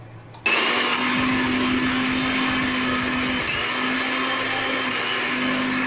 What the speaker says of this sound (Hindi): मिक्सर जार और इसमें हम डालेंगे ये टमाटर, अदरक और हरी मिर्च और हम इसकी प्यूरी बना लेंगे